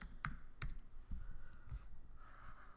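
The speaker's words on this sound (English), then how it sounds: "I'm going to type unicorn in here again." Fingers type on a computer keyboard at a desk, a few separate clicky keystrokes spread out over a couple of seconds, close and moderately loud with no talk.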